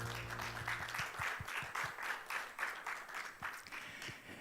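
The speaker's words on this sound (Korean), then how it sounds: "여러분 박수 부탁드립니다." An audience at a conference opening ceremony applauds steadily, a dense patter of many hands clapping at once, sustained for several seconds.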